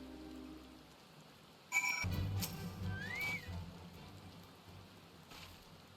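Steady, faint rain falls throughout a Final Fantasy XIV scene during the seasonal All Saints' Wake event, with a few soft chimes and a brief rising whistle-like game tone over the patter.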